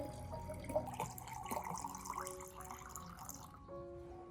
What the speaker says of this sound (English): Add 2 liters of clean water, preferably rainwater, well water, or water left overnight